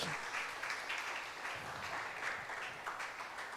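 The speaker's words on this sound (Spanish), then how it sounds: "por favor dale un aplauso al Señor" Steady, dense applause from a church congregation during a sermon, many hands clapping together at an even level with no talk over it.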